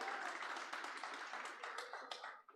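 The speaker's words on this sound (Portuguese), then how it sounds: "Dá uma salva de palmas para esse povo aqui," A church congregation claps together in a brief burst of applause, dense and fairly distant, fading out near the end.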